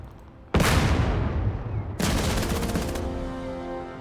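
Artillery in the tank game Total Tank Generals, two loud sharp blasts about a second and a half apart, each trailing off into a rumbling decay.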